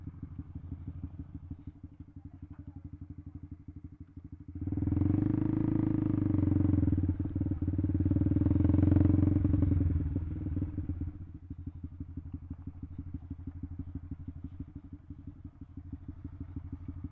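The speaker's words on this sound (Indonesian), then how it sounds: "Oke, kita parkir motornya dulu." A Honda CB150R or Yamaha XSR155 motorcycle idles close by with an even, pulsing putter, then revs louder for several seconds as it parks before settling back to idle.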